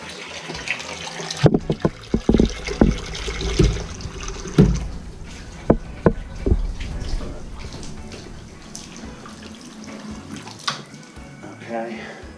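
Water runs from the tap into a cast iron bathtub, a steady rushing flow that continues throughout, with scattered knocks and a voice speaking over it.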